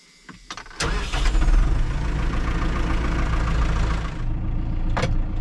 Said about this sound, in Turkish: Traktörümüzü çalıştıralım bakalım.